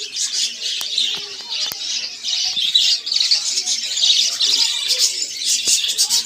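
Many white zebra finches at a bird farm chirp and twitter continuously in a busy, close chorus, with sharp high calls overlapping throughout.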